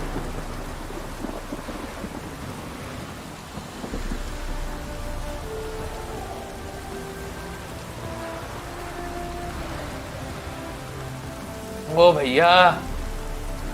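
Steady rain and distant thunder rumble through a stormy scene in the video game The Witcher 3: Wild Hunt, running as a constant wash under a speaking voice, with a brief louder burst of effects near the end.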